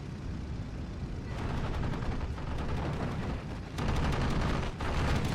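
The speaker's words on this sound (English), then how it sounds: "here come the Focke-Wulf 190s again with the strafing runs" Focke-Wulf 190 fighters making strafing runs in the Steel Division 2 war game, with bursts of rapid gunfire and booming impacts in irregular clusters over a rumbling battlefield din, with no voices.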